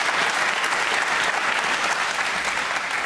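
A London television studio audience at a 2013 Question Time debate bursts into a full, even round of applause that carries unbroken through the whole three seconds.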